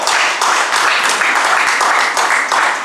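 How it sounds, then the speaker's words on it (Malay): Steady audience applause at a KINGBLASTER roadshow launch ceremony hosted by Fred Advantage in Malaysia, a dense crowd clapping loudly and continuously for about three seconds with no talk over it. "Tepukan untuk King Blaster."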